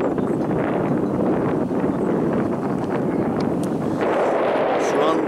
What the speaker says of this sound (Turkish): Yani bir kış mevsimi gibi bir rüzgar esiyor, soğuk.